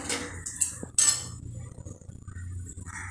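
A wooden churner works through dal with balloon vine leaves in a pot, with soft scraping and a few sharp clinks against the vessel, close by.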